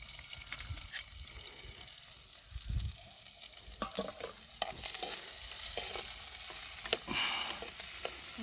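Sizzling and crackling of onions and green chilies frying in hot oil, with stirring scrapes and clatter throughout, close and steady with no talking.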